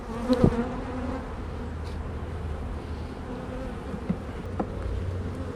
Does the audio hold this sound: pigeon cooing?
no